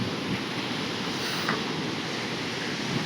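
Big waves roll in at Chandrabhaga beach in heavy rain, a dense unbroken roar of surf and wind that stays loud and even throughout, with no voices.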